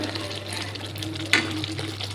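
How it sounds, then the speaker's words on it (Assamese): Mustard paste fries with ginger and garlic in a pan, a low sizzle over a steady hum with one sharp spoon scrape partway through. "এইখিনি ধুনীয়াকৈ ভাজি আছোঁ অলপমান আদা নহৰু কেঁচা গোন্ধ যোৱালৈকে"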